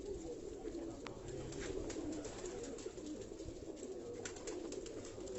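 Soft, continuous low cooing from a group of pigeons fills the background, steady and murmuring, with faint clicks and flutters scattered throughout.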